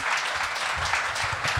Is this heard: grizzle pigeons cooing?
no